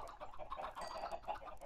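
Chicken clucking in Minecraft, soft, quiet, repeated short clucks in a steady, continuous run.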